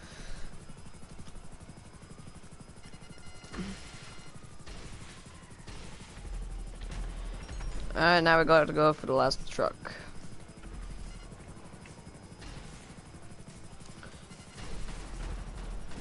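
Helicopter in GTA Online drones steadily throughout, with a louder burst of gunfire near the middle and people talking over it.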